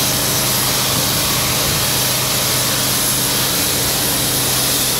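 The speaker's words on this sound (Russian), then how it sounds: "Раствор подается под напором." Chlorine disinfectant solution is sprayed under high pressure onto city streets, giving a loud continuous hissing roar with an engine drone beneath it that holds steady for about five seconds.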